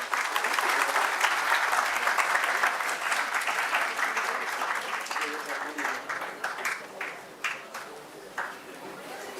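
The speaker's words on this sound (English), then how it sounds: "Kindly welcome him with warm applause." Audience at an international health care symposium applauds to welcome a speaker, a dense steady round of clapping that thins into scattered separate claps near the end.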